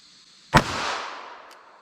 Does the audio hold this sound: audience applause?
no